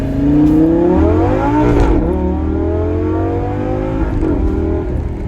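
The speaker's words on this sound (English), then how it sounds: "So I'm gonna do a little light acceleration just to show you guys." A 2012 Lamborghini Gallardo LP550-2 accelerates lightly from first gear, its engine note climbing loud and close, then dropping sharply at a gear shift near two seconds and again near four seconds before pulling up once more.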